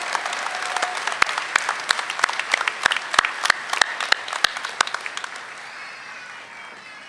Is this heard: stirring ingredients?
no